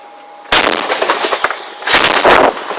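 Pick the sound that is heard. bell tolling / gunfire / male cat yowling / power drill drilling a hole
gunfire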